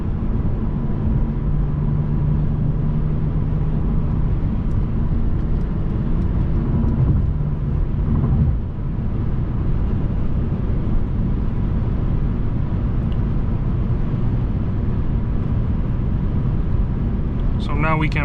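A 2020 Mercedes C-Class facelift picks up speed on its own under Distronic cruise control, giving a steady loud cabin drone of engine and road noise with a low hum that continues for the whole stretch.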